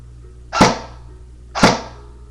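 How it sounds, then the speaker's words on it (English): Two sharp, separate snaps about a second apart come from an Echo1 MP5SD6 full-metal airsoft gun with blowback, fired on semi-auto. The shots are close and crisp against a quiet background. "here's just what it sounds like in the blowback feature. Semi-auto"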